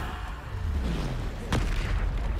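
Bombarda spell explosion in Hogwarts Legacy, a single deep boom with a sharp crack partway through over a low rumbling game background.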